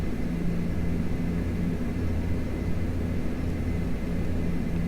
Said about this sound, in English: And I'm going to let the aircraft accelerate.